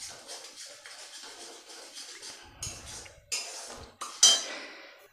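Spices being stirred and scraped in a pan with no oil, a steady scratchy clatter of a utensil against metal with a few sharper knocks toward the end, close and alone.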